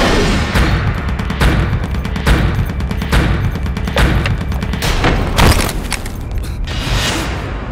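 Repeated loud gunshots crack out at irregular intervals, several bursts close by over a noisy background.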